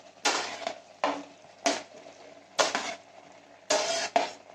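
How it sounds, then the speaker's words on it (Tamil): Sautéed vegetables stirred into simmering gravy in a kadai, five separate bursts of scraping, sizzling spoon strokes against the pan with quiet gaps between them. "நம்ம இப்போ வதக்கி வச்சிருக்க காயெல்லாம் இதில் சேர்த்துடலாம்."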